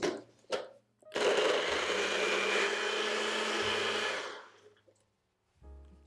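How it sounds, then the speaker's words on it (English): A blender purees dates with vanilla for a plant-based ice cream cake batter, running as a loud, steady whir for about three seconds between a few brief clicks and knocks, then falling quiet. "Then we're just going to blend this up until you don't see any more little pieces of dates."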